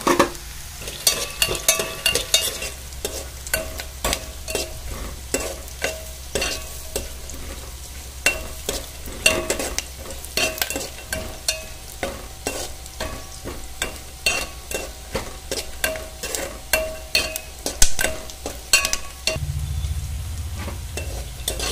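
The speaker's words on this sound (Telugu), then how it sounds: "ఒక టేబుల్ స్పూన్ ఆయిల్ వేసి పన్నీర్ వేయించుకోవాలి" Paneer frying in a tablespoon of oil in a pan: a constant low sizzle under frequent sharp clinks and scrapes of a utensil stirring the pieces, close and busy throughout, with no voices.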